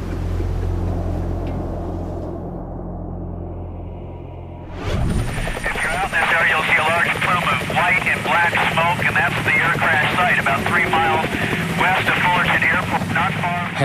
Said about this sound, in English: Helicopter news crews are quickly on the scene.